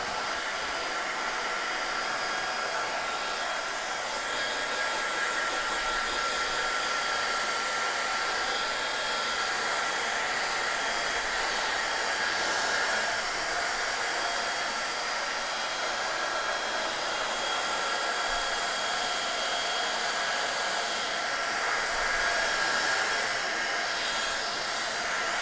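A hair dryer blows continuously at steady volume for the whole stretch, drying paint on a spooky cartoon cemetery painting, with no speech over it.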